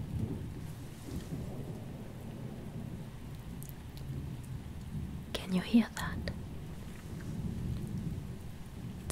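Steady rain patters in a dense, constant wash with a low rumble of distant thunder, while a soft whispering voice speaks quietly over the storm.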